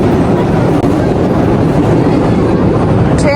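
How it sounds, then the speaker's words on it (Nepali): A train pulling into a station in Tokyo, a loud steady rumble of rolling wagons close by with a brief high squeal near the end. "ट्रेन आयो"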